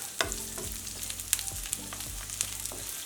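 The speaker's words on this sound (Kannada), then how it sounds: "ಈರುಳ್ಳಿ ಹಾಕ್ಕೊಳ್ಳೋಣ ಈರುಳ್ಳಿ ಕೆಂಪಗೆ ಹುರ್ಕೊಳ್ಳೋಣ" Two medium chopped onions in a little oil fry in a pan, with a constant close sizzle and repeated stirring scrapes and knocks of a spoon against the pan.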